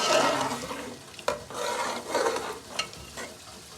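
Semolina roasting in a pan for halwai-style danedar suji halwa, with close, repeated stirring scrapes over a soft continuous sizzle and no talking.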